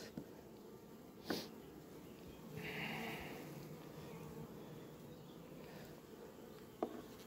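Honey bees buzz around an open hive during frame work. The buzzing is faint and steady, with a louder pass of a single bee near the middle and a few soft clicks.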